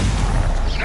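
Stupefy spell cast effect from Hogwarts Legacy, a short loud burst with a rushing whoosh and a rising bright swish at the end.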